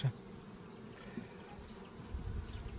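Honeybees at an old-style apiary buzz and fan close by, a soft continuous hum with a few louder passes near the end.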